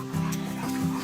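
A dog gives a brief low whimpering whine, close and moderately loud, with a second shorter whine near the end and no talk over it.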